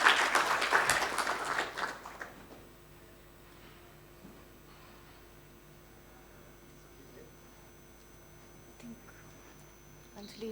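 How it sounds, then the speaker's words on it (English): At the inaugural session of the Technology in Maritime 2022 conference, an audience claps in a short loud burst that dies away within a couple of seconds, leaving a quiet room with faint hum and stray rustles. "So a huge round of applause for what he is doing and leading"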